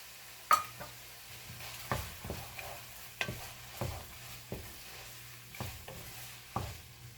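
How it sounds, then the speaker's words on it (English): Frozen green pepper sizzles in a hot pan with garlic, broken up by repeated scraping stirs at roughly one-second intervals, close and moderately quiet, with no talking. "I'm going to add a half a cup of frozen green pepper."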